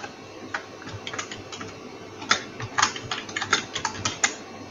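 Keys are pressed on a computer keyboard as irregular bursts of close, crisp clicks, sparse at first and then quicker clusters of taps, with no talking.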